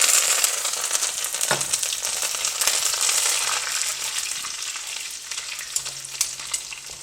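Ginger, green chilies and curry leaves frying in hot oil with mustard seeds, a steady bright sizzle with crackles and occasional stirring clatter, close and continuous with no talking.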